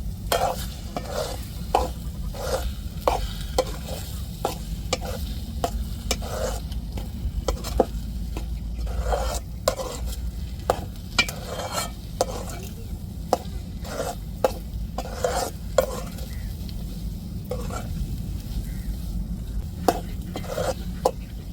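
A spoon stirs a milk mixture in a pan in a quick, steady rhythm of soft scraping strokes over a low, continuous sizzle, with light clinks against the pan and no talking.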